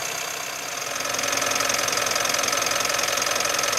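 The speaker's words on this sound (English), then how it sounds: "it is detectable now that it is a diesel, but obviously with the bonnet closed and with the installation here, that does reduce it quite a lot" A Mitsubishi ASX 1.8 diesel engine running steadily with the bonnet closed, a muffled, even idle with a faint rhythmic diesel clatter that grows slightly louder after the first second.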